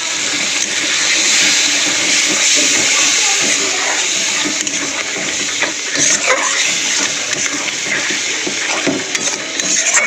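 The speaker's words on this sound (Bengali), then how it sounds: "অল্প একটু জল দিয়ে দেবো মশলাটা কষানোর জন্য।" Ground spices with turmeric and chilli powder sizzling in a pan after a splash of water is added: a continuous close hiss and bubbling sputter with crackly bursts, a voice faintly in the background.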